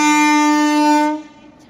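Loud, steady horn from a goods train at a railway station, one sustained harmonic blast lasting about a second before cutting off into quieter background.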